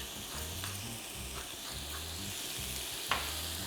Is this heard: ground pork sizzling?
yes